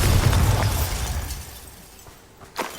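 A Bombarda blasting spell explodes in Hogwarts Legacy as a loud, rumbling burst that fades over a couple of seconds, followed by a sharp crack near the end.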